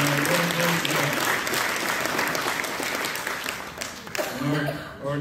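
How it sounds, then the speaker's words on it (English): Congregation applause at a Christmas Eve church program, full clapping that swells then tapers, with murmured voices and a tonal hum from the room underneath, briefly rising again at the end. "Let's give him a big hand clap of praise"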